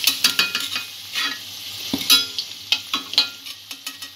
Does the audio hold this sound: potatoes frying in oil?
yes